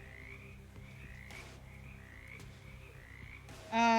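Frogs croaking in the game Shadows Over Loathing: a quiet run of repeated short croaks in an even rhythm, ending with a louder tonal blip, with no talking.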